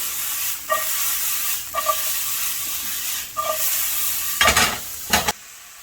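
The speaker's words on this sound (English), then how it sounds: "while we're still cooking out some of the moisture out of these mushrooms" Salted mushrooms sizzle steadily in a hot pan, with a continuous frying hiss broken by a few brief stirring scrapes and clatters, two louder ones near the end.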